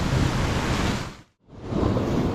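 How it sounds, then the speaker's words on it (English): Sea swell washing onto a UK fishing beach, a steady loud broadband roar of surf and wind that briefly drops almost to nothing mid-way before swelling back up, with no voices. "because that swell's increased, it's making a little bit of a wash now"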